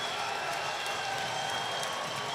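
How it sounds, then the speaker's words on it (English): An ice hockey arena crowd roars steadily during a fight on the ice, a dense, distant wall of cheering and clapping with no clear voices on top. "Listen to the crowd, Ed."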